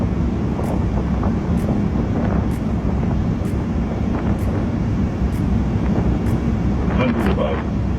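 An Airbus A340 lands, heard from the cockpit as a loud, constant rushing roar of airflow and engine noise, with faint repeating electronic tones and a brief voice callout near the end.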